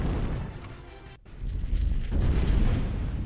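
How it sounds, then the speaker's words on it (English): A unit blows up in the Zero-K real-time strategy game, a deep rumbling blast with a sharp crack partway through, swelling into a heavy low boom that lingers to the end. "We learned a lot more about death explosions in this particular match"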